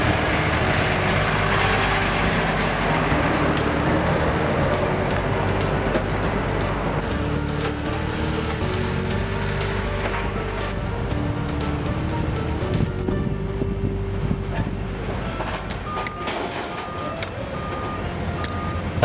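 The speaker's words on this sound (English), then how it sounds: "And so we proceed to open the door and park the truck." A cargo truck parks at an Amerijet air cargo facility, its engine rumbling loudly and steadily with a repeating reversing beep pattern near the end over broad background noise.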